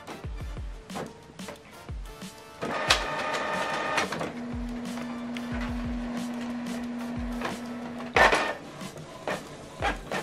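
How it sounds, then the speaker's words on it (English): A Canon Pixma all-in-one inkjet printer runs through a page: mechanical clicks and thumps, a whirring carriage pass, and a sustained motor hum, quiet and close by. "make sure you select the correct printer and select print"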